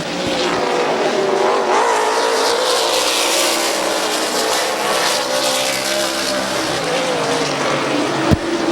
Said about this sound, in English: Loose race car off of the corners.